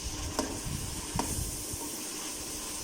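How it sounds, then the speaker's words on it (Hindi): Stuffed karela (bitter gourd) frying with tomatoes in a pan, a steady close sizzle with a few brief stirring clatters, no talk. "उसके बाद टमाटर भी इसके अंदर डाल दूँगी साथ ही। थोड़ा सा इन्हें फ्राई होने देंगे।"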